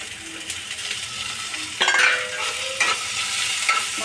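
Meat frying in a pan, a steady close sizzle broken by louder bursts and scraping as it is stirred, with no talk.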